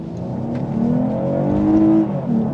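Lexus IS350 F-Sport all-wheel-drive sedan pulling hard from a standstill, its engine note rising steadily and loudly through the revs with no voices over it.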